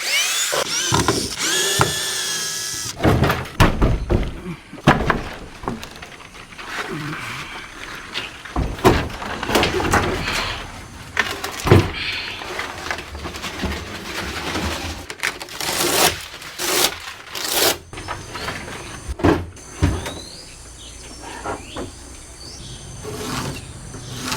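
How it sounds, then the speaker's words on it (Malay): An old, water-damaged house door is worked on with power tools while it is replaced by a solider door, giving bursts of drilling, sharp knocks and clatter over a steady insect-like hum across the whole stretch. "Pintu yang dah buruk ni kena air dah terkopak-kopak ni, aku akan tukar dengan pintu lama ni."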